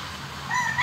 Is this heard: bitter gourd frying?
no